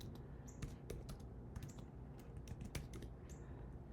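Typing on a computer keyboard: a quick, uneven run of close, crisp key clicks, quiet and steady, with no talking.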